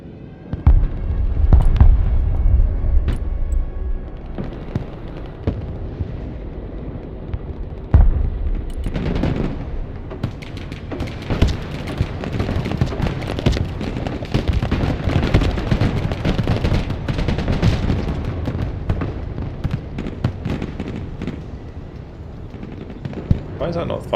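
Artillery barrage in the real-time strategy game Broken Arrow: repeated heavy booms and blasts rolling on for much of the stretch, dense and loud, with people talking over the bombardment throughout.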